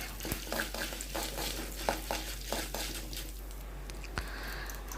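Urad dal and mustard seeds frying in a pan, a fine constant sizzle broken by scattered sharp pops and crackles, with occasional metallic stirring clicks, close and alone.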